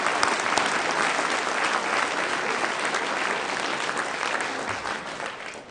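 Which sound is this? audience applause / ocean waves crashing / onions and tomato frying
audience applause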